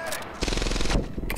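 Gunfire in Medal of Honor: Airborne in a factory complex, a loud, rapid burst of cracking shots lasting about a second, with a brief gap and another hit at the end.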